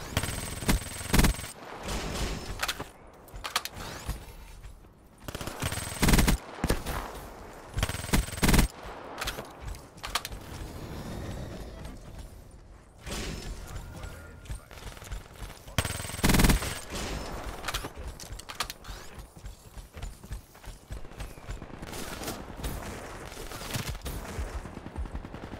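Rapid automatic gunfire in a Black Ops 3 Hardpoint match, loud bursts and single shots scattered throughout with players talking over the shooting.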